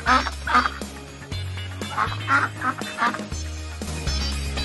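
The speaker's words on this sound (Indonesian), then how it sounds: "Itik." A duck quacks in a series of short nasal calls, fairly close and loud, over steady low background music among a set of farm and pet animal sounds.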